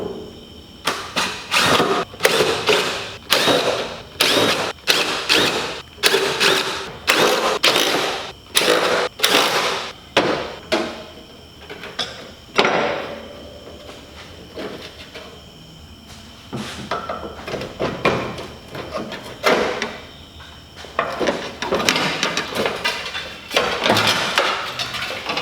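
Screws come out of a Chevrolet C10 truck cab in quick, loud, close-up bursts of a power driver, a rapid stop-start rhythm that thins to scattered shorter runs later on.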